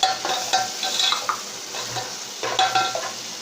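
Chopped green chillies frying in a masala for an egg khagina, with loud sizzling and repeated scraping stirs of a spoon in the pan, close up and with no talking.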